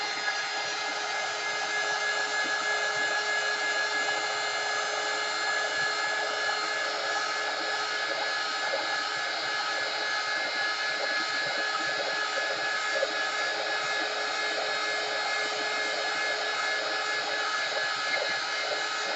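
A hair dryer blows steadily on a craft project, an even, moderately loud whirring hiss that holds without break for the whole stretch.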